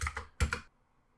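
Number keys on a computer keyboard are tapped in two quick close clusters of clicks, then silence.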